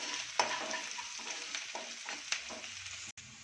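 Finely chopped ginger and garlic fry in a pan for veg momos, a soft steady sizzle with occasional scraping stirs, close and fairly quiet, without speech.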